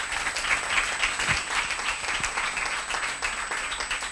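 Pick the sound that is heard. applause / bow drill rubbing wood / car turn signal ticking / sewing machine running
applause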